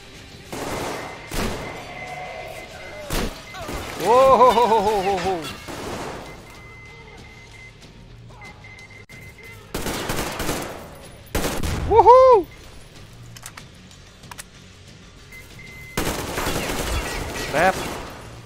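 Enemy gunfire in the post-apocalyptic shooter Metro Exodus erupts in several sharp clusters of shots and bursts across the stretch, loud and close, separated by quieter gaps with occasional whooshing effects and a player's voice now and then.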